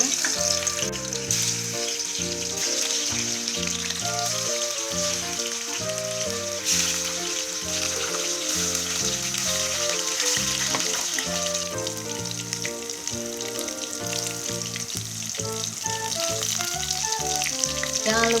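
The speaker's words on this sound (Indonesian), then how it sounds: "Jika udah minyaknya udah panas, aku masukkan tahunya." Tofu frying in hot oil gives a steady, even sizzle that runs the whole time beneath louder, continuous background music.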